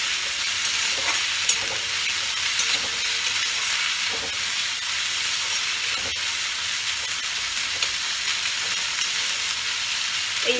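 Spice paste sizzles and fries in a pan while being sautéed for a snakehead fish curry, a steady hiss broken by faint, scattered stirring scrapes and small pops, with no talking.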